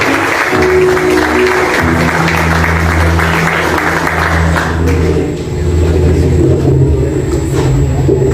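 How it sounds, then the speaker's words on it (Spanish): Gathering welcomes an evangelical chaplain with a round of clapping, a broad crowd patter set against a heavy low rumble and sustained tones that persist underneath. "Un aplauso, por favor."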